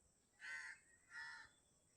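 A crow caws twice outdoors in nature, two distinct harsh calls about half a second apart, faint and fairly distant, with no other sounds around them.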